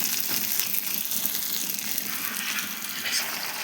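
Kakla fish sautéed for a bhuna in a hot pan, a dense continuous sizzle and hiss with faint scraping, close and steady with no voices.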